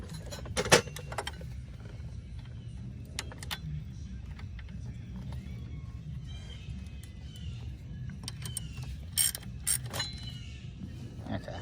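A ratchet wrench tightens bolts while an axle is replaced on a Polaris ATV. Sharp metallic clicks come in uneven bursts over a quiet workshop hum, with a few louder clanks near the end.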